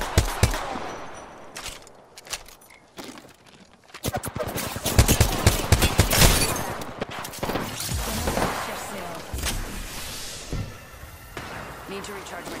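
Rapid automatic gunfire in an Apex Legends battle, close and loud, builds into a dense stretch of continuous shooting with scattered impacts, while game voices talk over it.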